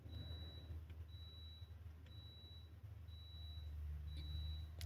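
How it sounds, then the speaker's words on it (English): A rice cooker gives a series of evenly spaced high-pitched beeps, each lasting about half a second, over a low steady rumble in the room. "It's my rice cooker. It just beeps a little too long."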